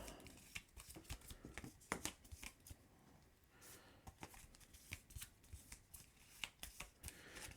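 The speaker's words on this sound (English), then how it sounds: "Let's give them a shuffle" A deck of Marvel Champions villain cards is shuffled by hand close up, with quick riffling bursts and soft slaps of the cards, fairly quiet and without talk.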